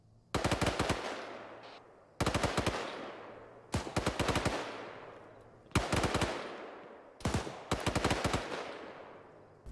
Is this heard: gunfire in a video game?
yes